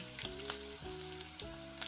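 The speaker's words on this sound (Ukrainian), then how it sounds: "Смажимо з двох сторін до золотавого кольору" Steady crackling sizzle of sauerkraut and buckwheat patties frying in a pan, close and continuous, with no voices.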